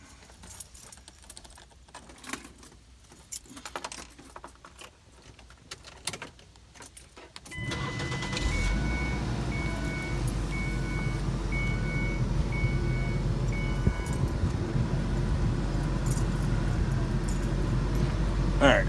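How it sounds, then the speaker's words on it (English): A Ford car's engine starts partway through after some clinking handling noises, then idles steadily and loudly with a faint repeating chime, while someone talks over it. "I'm going to have the car running"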